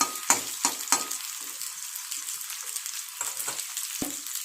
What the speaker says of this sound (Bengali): এই নারকেল বাটাটাই মাঝখানে দিয়ে দিলাম, একটু ভাজা ভাজা হবে